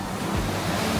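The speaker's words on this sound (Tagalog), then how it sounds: "lalaki ng mga alon dito sa Kabanggan" Large ocean waves break and wash continuously on the beach at Cabangan, Zambales, a steady, loud rushing surf with some wind noise and no voices.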